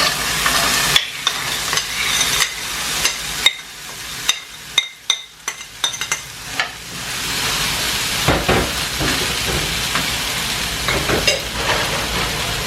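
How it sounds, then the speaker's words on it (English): Already cooked mixed vegetables stir-fried in coconut oil for coconut fried rice, a steady close sizzle broken by sharp clacks and scrapes of the spatula against the pan, with the frying quieting briefly and then returning. "I'm just going to stir fry it a little bit."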